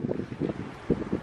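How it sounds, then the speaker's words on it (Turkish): Gusty wind buffets an open microphone beside a railway line on an empty lot, a steady low rushing roar with uneven surges throughout. "Biraz rüzgar var"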